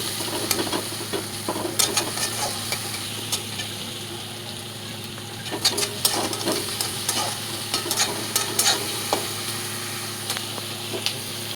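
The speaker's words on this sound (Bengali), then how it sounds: "এখন সেই তেলের মধ্যেই দেব তেজপাতা, জিরে আর কুচি করা পেঁয়াজ।" Chopped onion, bay leaf and cumin frying in hot oil, a dense steady sizzle close by, punctuated by frequent light scraping and clicking from stirring, with no voices.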